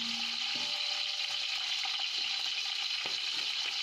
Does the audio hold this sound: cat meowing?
no